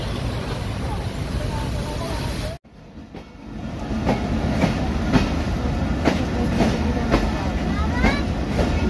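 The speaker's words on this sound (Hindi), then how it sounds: "ये ट्रेन का टाइम हो गया और इंजन ने मिसल दे दी है।" A train in the rain at Wazirabad passes steadily after its engine sounds, with rhythmic wheel clatter over rail joints and a continuous rumble close by, following a brief abrupt dropout early on.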